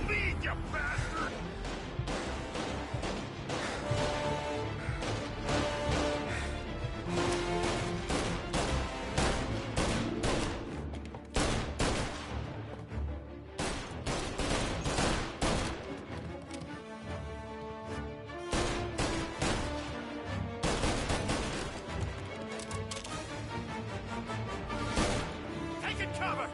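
Dense, continuous gunfire from a shootout in the video game Mafia on PS5: rapid overlapping shots and bursts with crashes fill the scene steadily and loudly, and shouting voices come in between.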